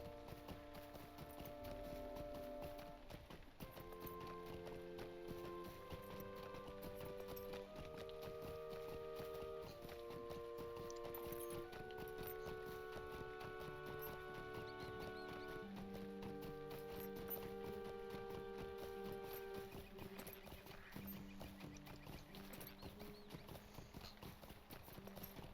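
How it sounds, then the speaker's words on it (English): Horse hooves clip-clop steadily while riding in Lord of the Rings Online, a moderate rhythmic walking gait beneath a continuous layer of game music with sustained melodic tones. "So we shall travel up there via horse"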